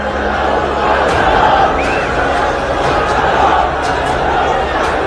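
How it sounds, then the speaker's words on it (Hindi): A huge crowd in Iran chanting Death to America slogans at a funeral, a loud dense roar of many voices sustained throughout. "पूरे ईरान से एक ही आवाज उठ रही है, we will kill Trump, death to America"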